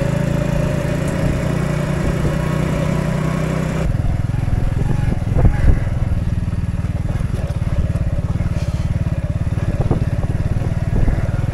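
An Orion moped engine drones steadily while being ridden, a close, continuous buzzing hum with brief bumps and rattles from the road along the way.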